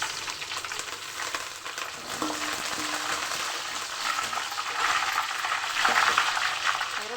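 Curry leaves and onions frying in hot oil for a fish curry, a loud continuous crackling sizzle that swells slightly toward the end, with faint stirring scrapes and no voices.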